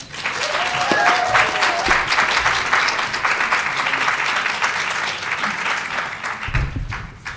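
Sustained applause from a conference audience greeting a singing teacher about to present, a steady full wash of clapping held throughout at close range.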